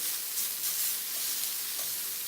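Cauliflower roasting in a hot pan gives a steady, bright sizzle, a close, even hiss of frying with faint pops scattered through it and no voices.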